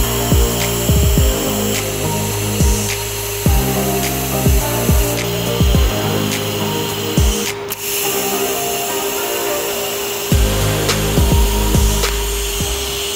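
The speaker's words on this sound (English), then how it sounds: "Let's go ahead and weld it up." Welding runners for a DIY turbo manifold for a Chevy Cruze with simple tools: a steady, loud electrical buzz and hum with repeated short pulses and brief breaks, no talking.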